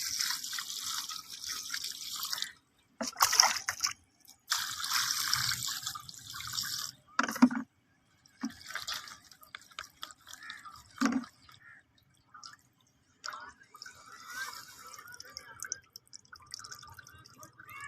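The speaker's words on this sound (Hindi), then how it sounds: "अब हम इसे एक बार फिर वॉश कर लेंगे" Cut raw chicken rinsed under running tap water in a sink, with splashing and dripping in uneven bursts and short pauses between rinses, close and moderately loud with no talking.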